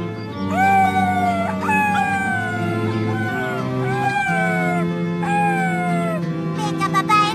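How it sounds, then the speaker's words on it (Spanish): Cartoon wolves howl in rising and falling drawn-out tones over a sustained musical backing, several voices overlapping in close succession at a steady loud level. "enséñanos a aullar"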